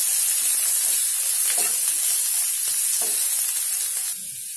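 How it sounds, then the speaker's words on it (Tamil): Chopped onions fry in oil for a cluster bean stir-fry, a steady close hiss of sizzling broken by a few scraping stirs of the spatula, quieting slightly near the end. "வெங்காயத்தை போட்டு கொஞ்சம் வதக்கிக்கலாம்"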